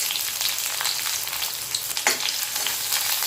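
Shallots and curry leaves sauté in hot oil for a buttermilk curry, giving a steady, dense sizzle and crackle that runs throughout with a few brief pops and stirring scrapes, no voices.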